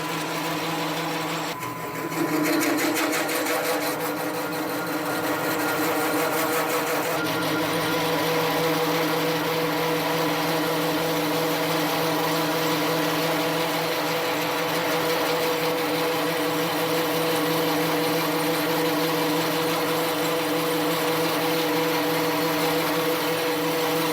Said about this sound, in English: This mill I don't think was made to hog off with a 3/4 inch roughing cutter.